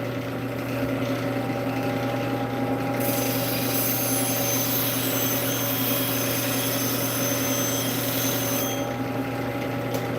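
Sharpening the bevel of a straight edge with a power tool, a continuous loud grinding hum with steady tonal whine and abrasive rasp running throughout, brightening sharply in the middle section.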